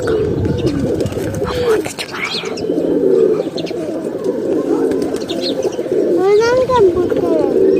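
A pigeon from a breeding pair kept in hot summer weather coos in low, repeated rolling phrases beside birds chirping higher up, with someone talking over much of it.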